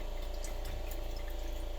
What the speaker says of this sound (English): Yes, here comes the water.